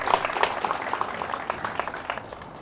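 Wedding guests at an estate applaud in a dense, continuous patter of many hands, fairly close and gradually fading slightly, with faint voices mixed in.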